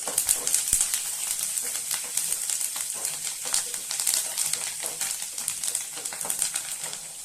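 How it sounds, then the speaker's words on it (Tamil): Curry leaves, garlic and onion sautéing in a pan, a steady bright sizzle with crackles and stirring scrapes running throughout, close and fairly loud, no talking. "பூண்டு வெங்காயம் வதங்கின பின்னாடி கருவேப்பிலை கொஞ்சம் எடுத்து வச்சிருக்கேன். இதையும் வதக்கி விட்டுறலாம்."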